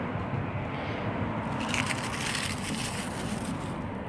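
Dry, dead garden plants crunching and crackling in a steady rustle, close to the listener, with a denser burst of crisp crackles midway through.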